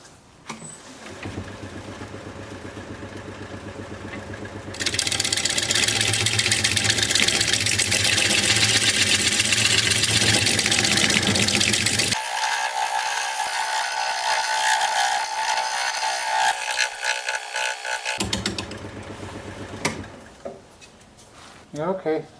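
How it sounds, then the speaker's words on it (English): A tool shear-scrapes a spinning wooden workpiece on a lathe, giving a steady loud mechanical whir with a raspy scraping texture. The tone and loudness shift partway through, and a voice talks over it at times. "I'm going to shear scrape."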